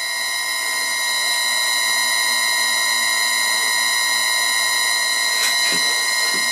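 A lathe's electric motor runs on its pulley drive at a 10 Hz setting, giving a steady, high, tonal mechanical whine with a faint ticking underneath, continuous and close.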